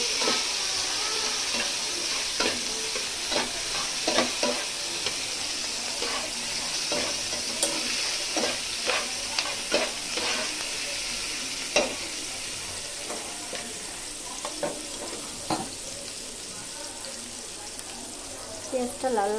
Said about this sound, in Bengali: পেঁয়াজটা লাল লাল হওয়া পর্যন্ত নাড়াচাড়া করতে থাকবো।